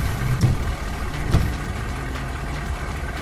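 A heavy rescue vehicle's engine idles in a kids' emergency vehicle app game, a steady low rumble with a couple of brief thumps near the start.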